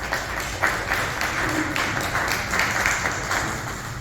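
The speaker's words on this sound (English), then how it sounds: "We can give them a round of applause." A township candidate forum audience gives a round of applause to the candidates; moderate, fairly even clapping from a modest crowd in a meeting room, continuing for several seconds without speech.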